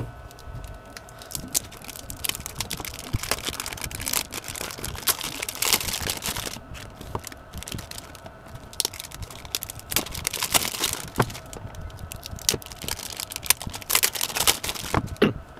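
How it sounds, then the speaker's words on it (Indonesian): A Dayan Zhanchi V5 Rubik's cube box is unboxed close up, giving a dense run of light clicks, taps, crinkles and rustles of cardboard and plastic packaging, with no talking. "Kita unboxing dulu guys."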